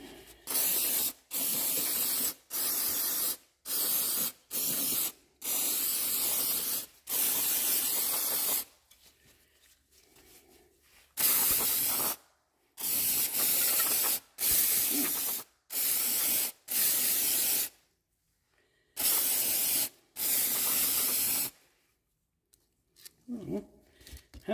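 Motomaster carb and choke cleaner sprays onto a throttle body in a series of about a dozen sharp, close hissing bursts, each a second or so long and separated by brief pauses.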